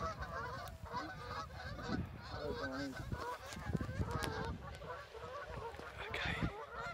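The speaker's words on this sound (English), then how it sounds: "How are we going to get out without frightening these geese off then?" A flock of geese honking repeatedly at a pigeon and goose shooting field with decoys set out, many overlapping calls fairly close and continuous, with faint talk underneath.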